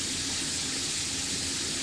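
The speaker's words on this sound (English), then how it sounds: "we're gonna go with some cold water." Cold tap water runs in a steady, even gush for a short stretch, filling the space with a continuous hiss with no voices over it.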